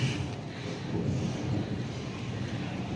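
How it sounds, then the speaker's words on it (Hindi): Thunder rumbles low and continuously over a steady hiss like rain, loud and unbroken from start to finish. "तो ये देखें बादल भी गरज रहे हैं।"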